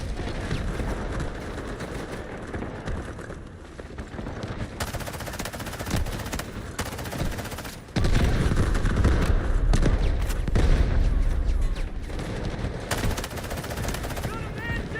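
Sustained gunfire and machine-gun bursts during an enemy assault in the video game Delta Force, loud and continuous with a heavier surge of fire midway, voices faintly under the shooting.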